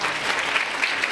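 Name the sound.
applause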